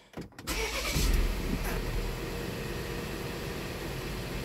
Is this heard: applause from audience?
no